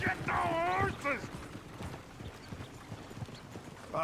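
Horses in the Red Dead Redemption 2 video game, heard as a rhythmic clip-clop of hooves with some mechanical rattle, while a voice speaks loudly over the opening second.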